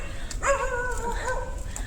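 A dog on a road at night gives one short, whining bark or yelp. It sounds moderately close over steady low background noise.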